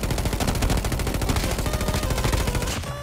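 Rapid, loud automatic fire from the BP50 rifle in Call of Duty: Mobile battle royale, a dense continuous burst of shots lasting nearly three seconds before cutting off abruptly.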